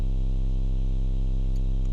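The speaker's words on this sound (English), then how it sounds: "take my 808 and pitch it down 1 octave to see if the distortion will work properly" A distorted 808 bass, pitched down one octave, drones as a loud, steady, buzzy low tone with dense harmonics for about two seconds, alone with no talking.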